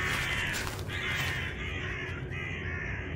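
Crows caw in the point-and-click game Deeper Sleep, with several harsh, rasping calls overlapping at a moderate distance and a steady outdoor ambience beneath.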